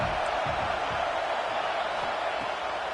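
A stadium crowd in a football video game roars steadily, a dense continuous wash of cheering beneath faint commentary.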